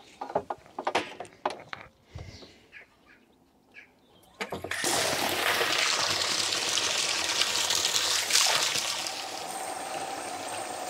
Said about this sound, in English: I'm going to use this to transfer the water from that water butt into this one